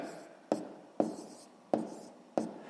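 A pen writes numbers on paper during a sixth-grade math exercise, four distinct quiet taps at a regular pace, each followed by a short scratchy stroke, close by and alone.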